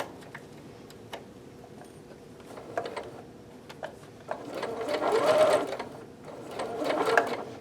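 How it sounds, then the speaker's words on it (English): A sewing machine stitches a 5/8 inch seam in fabric, with short bursts of rapid ticking stitches that swell louder near the end and are separated by brief pauses, faint and close. "back stitch and lock in your stitches, and then forward to finish off this seam"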